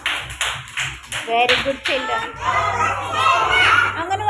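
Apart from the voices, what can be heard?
children clapping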